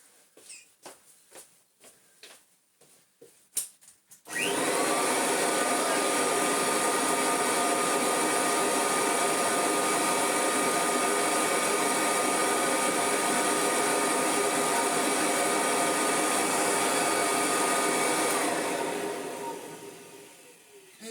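A 1981 Kirby Heritage Turbo vacuum cleaner, fitted with a new belt, starts after a few clicks and knocks, then runs with a loud steady whine and whoosh before winding down at the end.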